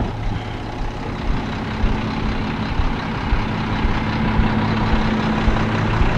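A garbage truck's engine idles in a driveway, a steady, loud, low diesel rumble that stays close and unchanging, with no voices.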